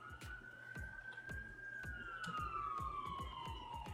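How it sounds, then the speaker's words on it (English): A siren sweeps slowly up and down, loud and steady as it passes close by outside, with rhythmic thumping knocks running underneath throughout. "Oh, a siren's coming."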